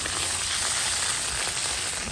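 Onion frying in a kazan, a steady close sizzle and crackle of oil with no voices.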